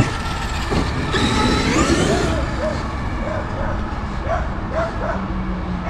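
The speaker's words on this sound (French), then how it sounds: "mes potes les chiens qui arrivent" Several dogs bark and yip repeatedly at a moderate distance as they arrive, short sharp calls scattered over a steady background rumble of a vehicle and wind, with a voice briefly present.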